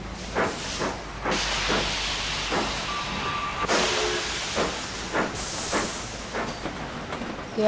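A steam train runs in the video game Sid Meier's Railroads, with rhythmic chuffs and hissing steam bursts at a steady pace and a short whistle-like tone in the middle, heard alone.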